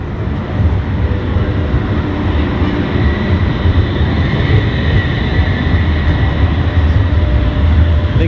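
A tram rumbles past at Plaza de España in Seville, a loud, steady rolling drone with a faint tonal whine on top and no voices over it.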